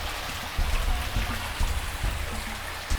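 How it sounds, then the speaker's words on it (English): Water drips and trickles steadily inside a hot, mineral-crusted hot springs cave, running down the rock sides with a soft, continuous patter close by and no talking. "So as the water drips and it leaves the calcium or the minerals right around it as it drips"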